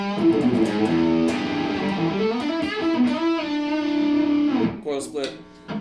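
A 2001 PRS McCarty electric guitar on its bridge humbucker through distortion rings out with loud, sustained, buzzy chords and notes that shift and hold steadily before breaking off into a few choppy strums.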